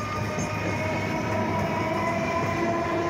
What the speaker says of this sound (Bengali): ট্রেন এগোতে লাগলো।